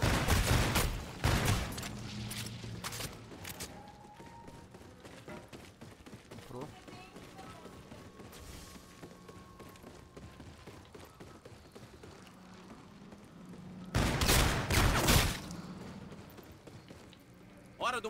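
Shotgun blasts in a Call of Duty: Infinite Warfare zombies match, loud bursts at the start and again near the end with quieter game noise between, while players talk over it.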